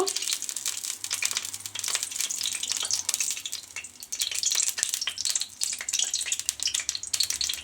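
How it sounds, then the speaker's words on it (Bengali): Hot oil sizzles and crackles continuously in a wok on a stove, with dense popping spatter close up and a faint low hum beneath. "উনুনে তেল দিয়ে দেব, এই কড়াই তেল দিয়ে দেব।"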